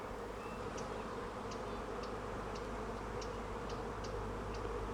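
Honey bees from a full brood hive that has swarmed before drone in a dense, steady buzz with faint repeating ticks mixed in, and no voices can be heard.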